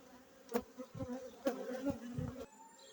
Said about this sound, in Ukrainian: пасіка в загальному чуть-чуть гарчить, бо нас тут щось кропили і жила трошки неспокійна від тої хімії